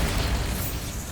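Bombarda blasting spell in Hogwarts Legacy: a brief, heavy, booming explosion right up close, with deep rumbling low end and scattered crackle fading over about a second.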